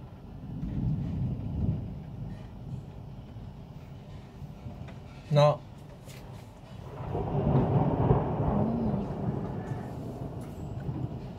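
Thunder rumbles during a violent storm in Al Ain, with a low, rolling roar that swells near the start and again toward the end, broken by one sharp crack in the middle, alongside wind noise and no talking.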